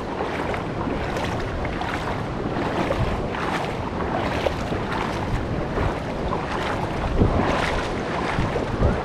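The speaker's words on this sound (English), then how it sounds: "We're walking on top of a waterfall" Steady rushing roar of falling water at High Falls Park, Alabama, heard from the top of the waterfall, a dense broadband wash with gusts of wind buffeting the microphone throughout.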